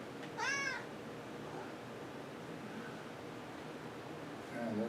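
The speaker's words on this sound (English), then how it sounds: "That's my cat, Jack." A pet cat meows clearly twice, once near the start and again at the end, each call rising and falling, heard against a steady low background hiss in an indoor room.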